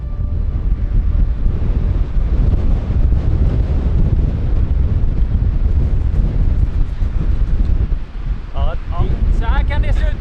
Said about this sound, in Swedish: Det är sol, det är blåsigt och det regnar allt samtidigt.